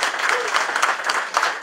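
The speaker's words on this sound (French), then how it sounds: "Elle est de Thierry Timon, que je vous demande d'applaudir." Audience applause at a municipal election candidacy event in 2014, a steady, dense clapping from a crowd that carries on without a break.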